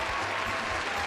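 A crowd breaks into dense, steady audience applause, loud and continuous throughout the short burst with no voices on top.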